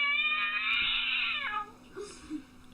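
A frightened cat lets out a long, strained wailing cry, then a couple of shorter, fainter mewling sounds, close to the microphone in a quiet room.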